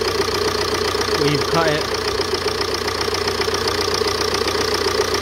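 A Ford Mondeo Mk4 with a 1.8 TDCi diesel engine idling after fuel priming pump work, a loud, steady, slightly knocking drone that runs throughout while someone briefly speaks over it.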